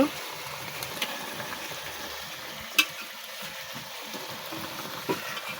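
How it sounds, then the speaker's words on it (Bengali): Meat fries in a pot on a clay stove, giving a steady soft sizzle with occasional clinks of stirring, moderately close, under a voice speaking. "এখন এখানে গোষ্ঠটা দিয়ে এটাকে ভালো করে কষিয়ে নেব"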